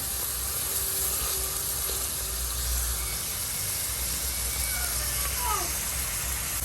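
Sliced onions frying in oil in a pan for a Oran-style dish, a steady even sizzle and hiss throughout with no break.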